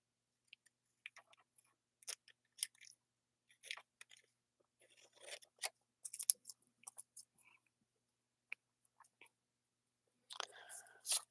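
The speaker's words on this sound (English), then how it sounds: "just cutting the washi" Big paper scissors snip through washi tape in a quiet crafting setup, a series of short, crisp cuts and rustles scattered irregularly, close and soft, with long silent gaps between them.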